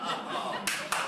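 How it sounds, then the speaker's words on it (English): An audience claps in short bursts, with two sharp swells of applause over a murmuring crowd and a bit of light laughter. "A clap for the humour."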